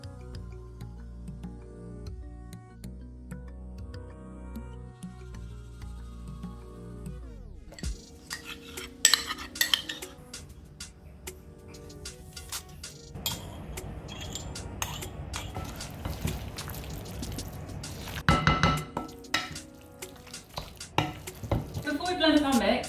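Spoon stirring a brown sugar mixture in a bowl for vegan pumpkin pie, scraping and clinking in short bursts after a quiet opening, growing busier and louder toward the end.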